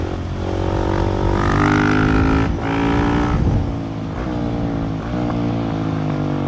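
A Husqvarna 701 Supermoto motorcycle engine revs hard and accelerates, its pitch rising and dropping through gear changes, loud and close, with no voices.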